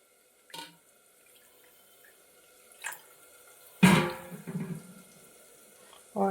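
Water splashes in short, separate bursts as it is poured over tamarind in a kitchen to soak, with a louder gush midway and quiet gaps between the pours.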